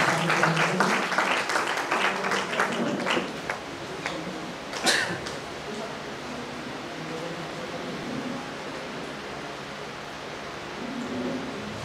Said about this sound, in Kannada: ಅವರಿಗೆ ತಾವೆಲ್ಲರೂ ಚಪ್ಪಾಳೆ